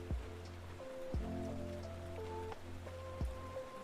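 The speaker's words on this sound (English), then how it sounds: "I'm almost always playing rain sounds because I can." Soft recorded rain sounds play quietly in the background of a cozy indoor art session, a faint pattering hiss with gentle sustained tones over it and no one speaking.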